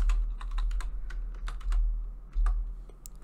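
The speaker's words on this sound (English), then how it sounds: "You just have to type kick Liberty Trooper 2" Rapid keystrokes on a computer keyboard while entering a kick command in the Liberty County game, coming in short uneven bursts of clicking with brief pauses and no talking.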